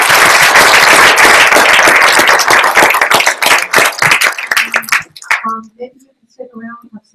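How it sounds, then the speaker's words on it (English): Audience applause for visiting Pulitzer Prize-winning alumni at a university event, loud dense clapping for about five seconds that breaks up into scattered claps and fades, with brief talk near the end. "let's give a big round of applause to these folks"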